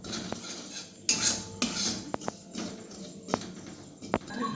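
Semolina roasting in a pan for suji paratha, stirred with a utensil that makes several sharp scraping clicks against the metal over a low frying hiss, close and fairly quiet, with no talking.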